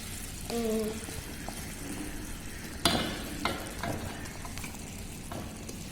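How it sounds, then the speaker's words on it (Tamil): A carrot, gram flour and oil mixture for Mysore pak is stirred in a pan, giving soft scraping and gentle sizzling with a few sharp clinks from the spoon and a brief tonal sound near the start. "அதை எடுத்து நம்ம ஆட் பண்ணி இப்போ நல்லா கிளறி விட்டுருந்தாங்க"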